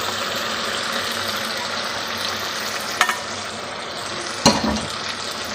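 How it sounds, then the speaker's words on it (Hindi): Okra sautéing with meat and yogurt masala in a pan, a steady crackling sizzle broken by two distinct spoon clanks against the pan, no one speaking. "भिंडी डालने के बाद इसको थोड़ा सा भून लें"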